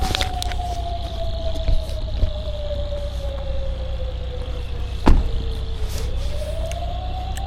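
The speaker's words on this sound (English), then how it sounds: "That's what the sirens sound like in Kharkiv." Air raid siren wailing over Kharkiv, Ukraine, a single long, slowly falling tone that dips and then rises again, heard from a distance over low rumbling traffic noise.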